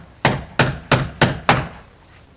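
Five sharp, loud hammer blows strike in an even rhythm while door hinges are fixed on a farm, each bang ringing briefly before the next, with no talking.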